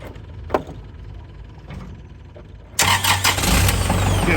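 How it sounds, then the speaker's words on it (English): A tractor engine cranks and catches at a farm while set up to run a Land Pride WC1504 wood chipper, going from quiet background to a loud, steady idle after a few clicks, with no talk. "I'm gonna start the tractor and engage the PTO."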